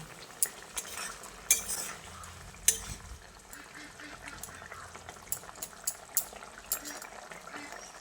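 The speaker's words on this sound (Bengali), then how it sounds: "তারপর ভালো করে মিশিয়ে নিচ্ছি" Spoon stirring a vegetarian paneer curry in a pan, mixed with kasuri methi and no ginger, onion or garlic, giving soft scraping and clinking strokes with a faint simmering hiss, close and fairly quiet throughout.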